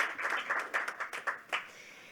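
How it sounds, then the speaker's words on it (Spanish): A conference audience applauds a panel of speakers, a fairly faint round of scattered clapping with distinct individual claps that thins out toward the end. "Un fuerte aplauso para la mesa."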